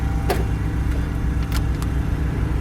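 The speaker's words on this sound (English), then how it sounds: "Yep, heater fan works." The heater fan of a 1968 Oldsmobile Cutlass convertible runs as a steady low whir from close by, with a few faint clicks and rustles over it.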